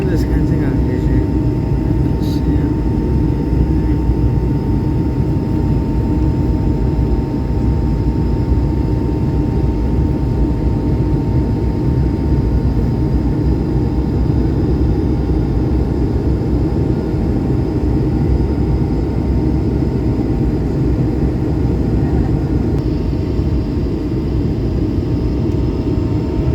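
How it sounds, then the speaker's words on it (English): A Delta Airlines Airbus A220 jet takes off, heard from the cabin as a loud, steady engine roar and rumble that holds throughout, with no clear speech. "Now this is very unusual takeoff."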